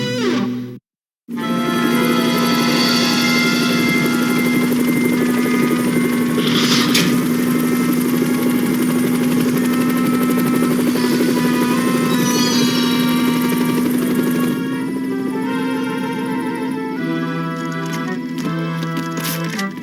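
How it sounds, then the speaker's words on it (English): A cartoon helicopter drones steadily with a sustained rotor-engine hum that holds for most of the stretch, then thins out and shifts lower as it recedes, with no talk over it. "We've got a chopper waiting."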